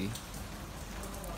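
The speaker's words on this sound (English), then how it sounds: "it's raining" Rain falling in Fiji, a soft, steady hiss of drops on surfaces, faint and continuous for a brief moment.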